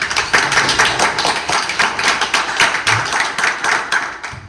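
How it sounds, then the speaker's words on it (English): An audience at a startup demo day applauds the judges with sustained clapping that fills the room, loud and continuous for several seconds. "Let's give our judges a round of applause"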